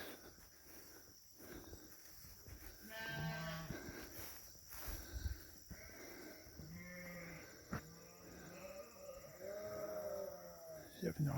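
Sheep bleat repeatedly on a farm, several drawn-out calls in sequence with quieter moments between, under occasional nearby talk and faint insect chirping.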